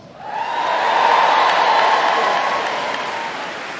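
A crowd cheers across an arena at an RAF Police dog display, a broad, sustained roar that swells quickly and holds steady for several seconds before easing slightly.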